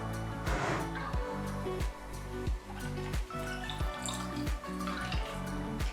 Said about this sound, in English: I'm going to start off by adding a splash of apple juice.